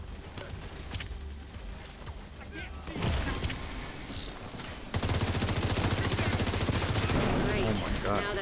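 Automatic gunfire in the video game The Division 2 rattles steadily and grows denser partway through, with a voice talking over the shooting.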